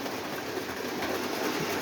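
A Lionel New Jersey model diesel engine runs steadily, pulling gondola cars and a caboose around a toy layout, giving a continuous close mechanical whir and rumble with faint track clatter and no talk.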